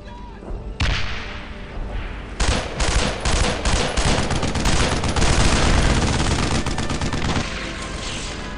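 Dense World War II gunfire from the Brothers in Arms video game: sustained rifle and machine-gun bursts with heavy thuds, loud and continuous for most of the stretch after a brief quieter opening.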